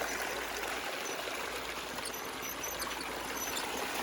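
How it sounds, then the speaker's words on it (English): Water pouring steadily out of a gold trommel used for prospecting, a constant rushing stream close by with no pauses or voices. "Got plenty of water coming out of here."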